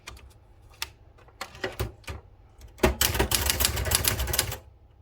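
Citizen X3 manual typewriter being typed on after cleaning: a few scattered key strikes, then a fast burst of crisp clacking keystrokes, close and clear with no talk.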